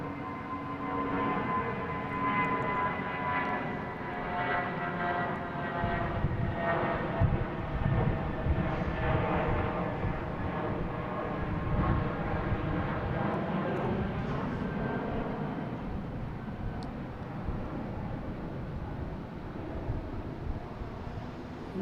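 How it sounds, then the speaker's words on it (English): A JetBlue airliner bound for West Palm Beach takes off at Boston Logan International Airport, its steady distant jet roar swelling and droning continuously with a faint whine layered on top, no voices over it. "next taking off is a JetBlue heading to West Palm Beach"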